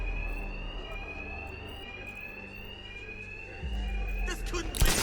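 An alarm rings in the video game Batman: Arkham Knight, a continuous high electronic tone over a low hum, with a brief burst of other noise near the end.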